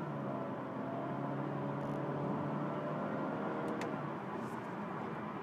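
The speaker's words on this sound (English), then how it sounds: "If we see, the car is now going up through gears." A Honda HR-V with an i-VTEC engine, shifted by steering paddles, pulls away and accelerates up through its gears, a steady close engine drone and road noise with faint clicks over it, no voices.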